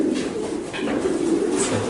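Racing pigeons coo softly and repeatedly at close range, a low steady murmuring with a few faint higher chirps over a quiet loft background.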